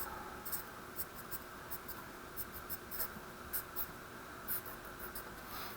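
Pen scratching and tapping on a writing surface while drawing a chemistry diagram for condensation reactions, short irregular strokes over a steady low room hum, close and fairly quiet, with no speech.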